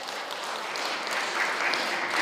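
Audience applause at an NGO broadcasting launch ceremony, a brief steady patter of many hands clapping throughout.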